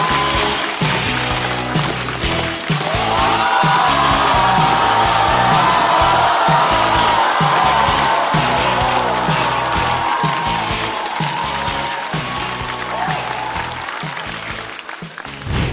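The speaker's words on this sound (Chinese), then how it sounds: "掌声有请二哥。" A stand-up comedy audience welcoming a comedian to the stage, a loud sustained burst of applause with cheers and whoops that holds for several seconds before slowly tapering.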